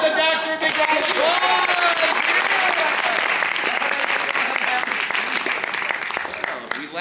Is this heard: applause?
yes